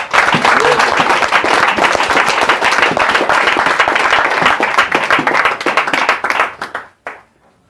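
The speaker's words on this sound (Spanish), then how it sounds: "Un fuerte aplauso al Señor." A church congregation bursts into loud, close applause, a dense rapid patter of many hands that carries for several seconds, then thins into a few scattered claps and stops.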